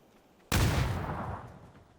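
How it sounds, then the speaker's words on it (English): A grenade goes off in a video game with a single sudden, loud boom whose low rumble decays over about a second after brief quiet. "I think you just threw a nade on us, buddy."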